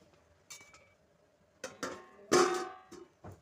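A metal lid clatters onto a pan of frying pumpkin greens in a home kitchen, a few short clinks and a louder settling clank, close and fairly quiet with no talk.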